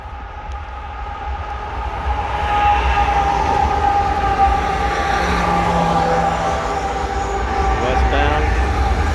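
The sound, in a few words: CSX westbound empty coal train passing in the snow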